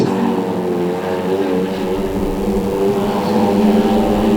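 Prostox race cars lapping the oval at Cowdenbeath Racewall, a steady loud engine drone with a continuous roar that holds throughout, heard from trackside without pauses.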